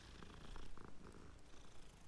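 A cat in Hogwarts Legacy purrs softly in a low, continuous rumble, close but quiet, with no talking.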